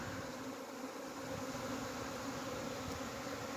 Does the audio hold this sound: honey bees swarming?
yes